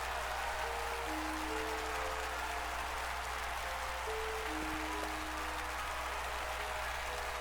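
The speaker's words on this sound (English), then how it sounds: "the pair left the stage, to the sound of the thundering applause" Faint, steady clapping from a crowd after a dance performance in Octopath Traveler 2, distant and even, with a low constant hum and a few tonal blips over it.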